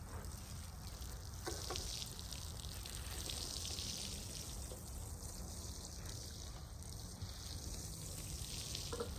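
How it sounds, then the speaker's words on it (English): Rainwater is poured over newly planted peas in a garden bed, a soft continuous splashing and trickling that runs steadily at low volume for several seconds with no one speaking. "I grabbed some rainwater and I'm going to water the peas that I just planted."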